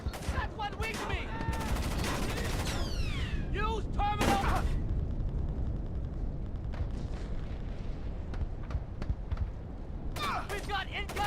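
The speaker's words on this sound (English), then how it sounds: "We've got incoming shots." Gunfire in the stealth game Splinter Cell: Chaos Theory, dense crackling shots and thuds running continuously under game effects and sweeping whistles, with someone talking over parts of it.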